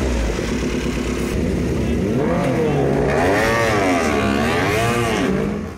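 A loud Honda RC213V-S motorcycle engine with a titanium exhaust idles then revs up and down in rising and falling sweeps, close by, with talk briefly underneath.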